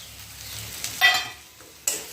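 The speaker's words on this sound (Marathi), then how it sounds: "हे मसाले टाकून दिलेले आहे त्यांना छान असं छान परतून घेते" Coriander powder, turmeric and chili flakes sauté in a pan for a dry safflower leaf curry: a short, quiet sizzle with a couple of brief louder bursts.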